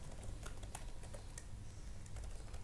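Rapid key taps on a computer keyboard form a steady, fairly quiet clatter over a low background hum, the individual clicks distinct and close.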